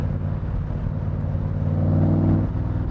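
A 1965 Superformance Cobra's engine pulls in fourth gear at low RPM, a deep steady rumble from inside the car that swells slightly toward the end.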